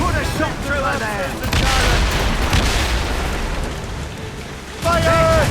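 Naval cannon fire from the sailing-ship game Assassin's Creed Rogue booms in heavy, rumbling volleys amid crashing battle noise, loud and close, with shouting voices woven through the din.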